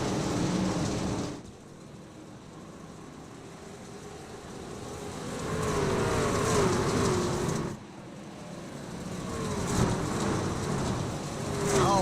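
Pickup trucks racing on the dirt oval at Eldora Speedway, engines roaring near and far from the green flag, with rising and falling pitch sweeps as trucks pass and crowd-like noise beneath.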